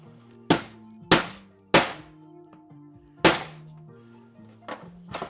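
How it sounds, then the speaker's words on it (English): A small riveting tool struck with a hammer to set a snap rivet on a DIY belt fob, four sharp ringing metallic whacks close up with short pauses, then lighter taps at the end. "couple of stiff whacks, rivet it in place"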